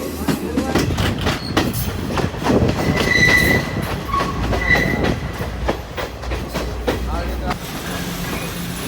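A train runs on its rails during a journey through green hill country, a steady loud rumble with rhythmic clatter and a few faint squeals, and voices faintly under it.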